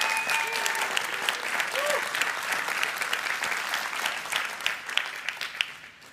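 A crowd applauds at a presentation event, sustained loud clapping from many people with a few brief tonal sounds early on, tapering off toward the end.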